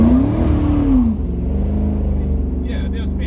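An SN95 Mustang on street tires launches from a dig, its engine roaring loud and close as the revs climb and then settle into a steady drone, with tire noise and brief higher squeals toward the end.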